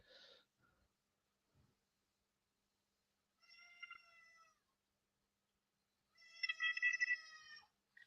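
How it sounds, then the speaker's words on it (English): A cat lets out two drawn-out, screeching meows indoors, the second louder and longer than the first, with near silence between them and no talking. "my cat screaming coming through"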